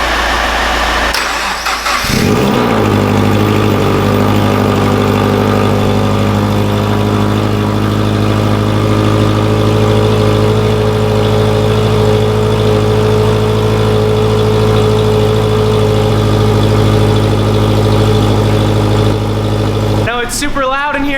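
A turbocharged FRS cranks over and fires up inside a garage, then settles into a loud, steady idle that drones close by for nearly twenty seconds before a brief change at the end.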